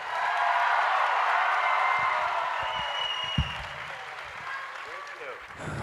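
Audience applause for two actors at a M*A*S*H fan convention panel, a loud sustained wash of clapping that slowly thins toward the end, with some talk mixed in.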